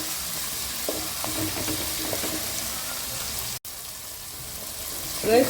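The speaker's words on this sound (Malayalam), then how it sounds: "അങ്ങനെ നമ്മുടെ തക്കാളി ഉള്ളി എല്ലാം നന്നായിട്ട് ഇവിടെ വഴന്ന് വന്നിട്ടുണ്ട്." Tomato and onion sautéing in a pan for an aval upma, a steady close sizzle and crackle of frying with occasional stirring scrapes, continuous and moderately loud with no talking.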